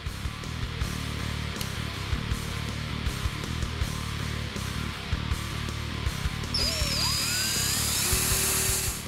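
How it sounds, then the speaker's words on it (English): A power drill whirs in short bursts, drilling rivet holes for a seat belt bracket in a 1965-1973 Ford Mustang's quarter panel area, against a noisy background, ending with a rising, high-pitched whine. "pull the quarter trim panel off to drill our holes for our rivets"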